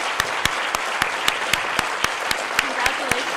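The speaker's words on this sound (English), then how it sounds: "How about one more big round of applause for the WVU Physician Assistant Class of 2022." A seated audience applauds at a physician assistant white coat ceremony for a WVU class, giving a steady wash of clapping with a few sharp, evenly spaced claps standing out.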